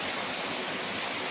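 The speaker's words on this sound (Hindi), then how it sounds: "देख रहे हो कि झमाझम बारिश हो रही है ना" Heavy downpour of rain falling steadily outdoors, a dense continuous hiss with no voices, moderately faint and unbroken throughout.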